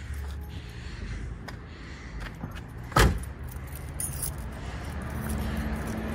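Car keys jangle after the engine of a 1973 Dodge Dart Gran Sedan is switched off, with one sharp metallic clink standing out midway above a low steady background rumble.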